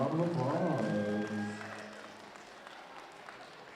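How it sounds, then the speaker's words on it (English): Applause for the winner at a Saginaw Chippewa round dance: crowd clapping under a voice at first, then thinning into a fading patter of claps. "Round of applause."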